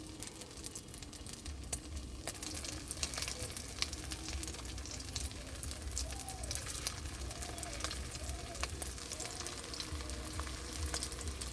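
Lentil balls frying in hot mustard oil in a wok give a steady, fairly quiet sizzle and crackle that runs evenly throughout without speech.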